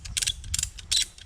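A ratchet strap is cranked tight on a Tentsile Connect two-person tree tent. Three quick bursts of close, loud metallic clicking sound from the pawl, with no speech.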